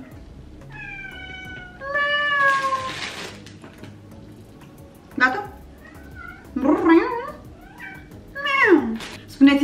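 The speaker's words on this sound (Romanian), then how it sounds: "Spuneți-mi că și voi miaunați odată cu pisicile voastre." Several cat meows with rising and falling pitch, close by, some drawn out and others short, with a brief spoken word in between.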